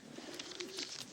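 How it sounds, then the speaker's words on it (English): An English carrier pigeon makes soft, low throaty coos, faint and close, over a hissing background with a few scattered clicks. "This is a good little English carrier pigeon."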